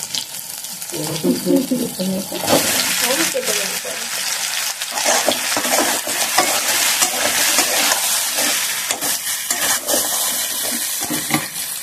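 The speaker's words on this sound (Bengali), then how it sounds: "কষানো মশলার মধ্যে আলু কচুটাকে ছেড়ে আরো একটু কষাবো" Potato and taro being fried in cooked-down spice masala for a prawn curry, with loud dense sizzling and frequent scraping stirs close up, and a voice murmuring partway through.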